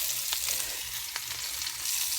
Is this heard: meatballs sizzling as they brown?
yes